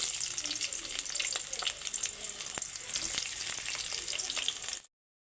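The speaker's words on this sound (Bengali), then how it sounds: "এবারে দিয়ে দিচ্ছি পেঁয়াজ কুচি" Chopped onion frying in hot oil in a wok, a loud, close, continuous sizzle with scattered crackles and stirring scrapes, cutting off abruptly.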